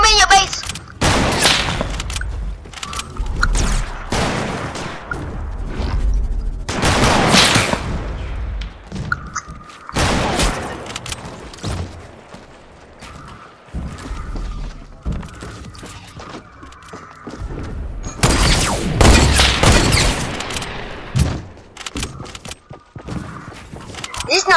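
Loud, close gunfire from the video game Fortnite, with repeated rapid bursts and clusters of shots broken by short pauses, mixed with clattering mechanical game effects.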